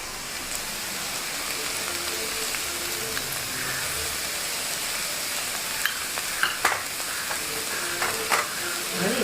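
Mushrooms fry in a pan with cumin and pepper powder, giving a steady, loud hiss and sizzle throughout, with a few clinks from stirring near the end.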